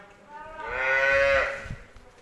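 A single long moo from a pregnant HF or Jersey cross dairy cow rises and falls over about a second, with faint farmyard noise around it and no talking.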